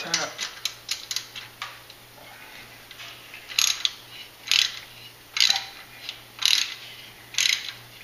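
A hand tap cuts threads during a Duramax LLY exhaust gas temperature sensor install, giving a series of sharp metallic ratchet clicks. They come in a steady rhythm of about one per second, close up, with faint background sounds.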